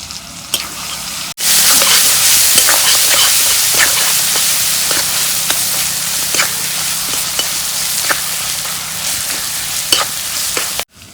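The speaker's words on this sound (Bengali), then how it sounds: "মশলাগুলা তেল দিয়ে কষে নিলাম।" Turmeric, salt and cumin fry in hot oil with a loud, steady sizzle, a sudden burst starting after a moment of quiet and holding strong throughout, with crackling pops and occasional stirring scrapes.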